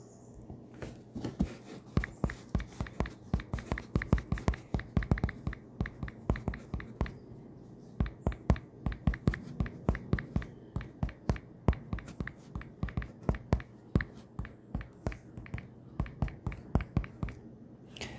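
Keyboard keys clatter in quick, uneven bursts of close, crisp clicks that continue steadily with brief pauses between runs.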